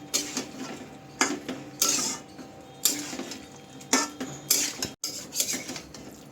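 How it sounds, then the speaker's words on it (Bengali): A utensil stirs chicken with ground spice masala in a cooking pan, producing repeated close scraping and clanking strokes against the metal with a soft sizzle underneath. "তারপর ভালো করে সব মশলা একসাথে আবার কষিয়ে নিতে হবে।"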